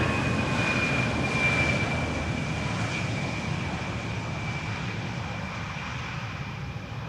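A jet airliner arriving at Amsterdam Schiphol Airport, a loud continuous engine roar with a faint whine on top, steady and close throughout without talk.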